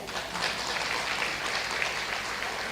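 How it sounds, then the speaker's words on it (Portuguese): Members of a church congregation clap for the media team, a brief, steady patter of applause in a hall, with a faint voice underneath. "uma salva de palmas para a equipe de mídia lá"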